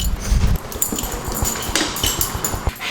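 A dog in New York City makes a few short yips and whimpery sounds close by, with brief low thumps at the start and light street clatter behind.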